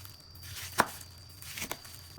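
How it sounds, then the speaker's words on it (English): A knife slices a triangular piece of watermelon into bite-sized pieces on a cutting board, giving one sharp, crisp chop followed by a softer double cut, close and clear with no talk. "We cut it horizontally into bite-sized pieces."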